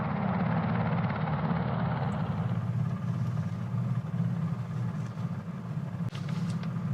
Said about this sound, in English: A helicopter just landed right there. You can kind of see the flashing light. It's so loud and so close.